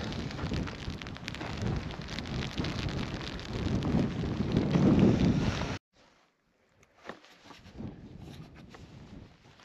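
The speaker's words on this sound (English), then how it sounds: "So it's still raining." Steady rain falls outdoors on a hiking trail among boulders, a dense hiss with wind buffeting the microphone, dropping abruptly to quieter scattered patter partway through.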